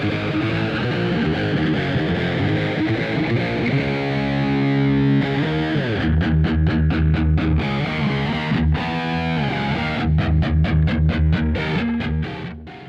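Electric guitar through distortion and delay pedals plays chords and riffs with echoing repeats trailing each note, loud and continuous, with rhythmic choppy strums in the second half.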